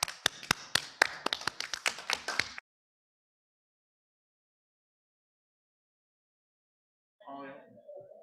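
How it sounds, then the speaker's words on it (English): Meeting audience clapping for the staff of three agencies: a run of sharp, close, evenly spaced claps lasting about two and a half seconds, then silence, with a brief voice speaking near the end. "Do y'all want to stand so we can applaud you?"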